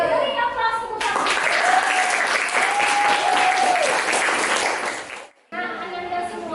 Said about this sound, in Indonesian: Beri aplaus tepuk tangan